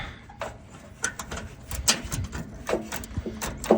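A wrench turns a bolt on the front rubber bumper of a 1978 MGB, making faint, irregular metallic clicks and scrapes in quick, uneven bursts at close range.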